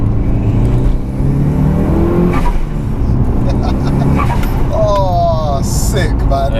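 A 21-year-old Mitsubishi Evo 6 engine revs loudly and continuously from up close, a raw droning roar with rising pitch toward the end, while people talk over it.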